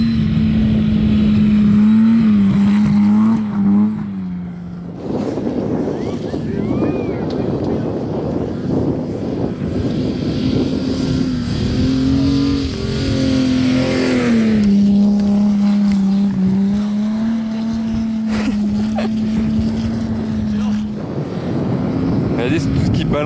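A Pagani Zonda supercar driving on an ice track: a loud, steady engine drone that rises and falls as it revs, heard up close for a long stretch, with excited talk and crowd noise over it.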